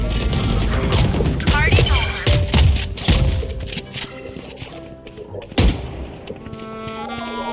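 Missiles launching and exploding in a video game: a dense run of heavy thuds and crashing impacts, followed by a sharp blast near the end, all over a lingering tonal game backdrop.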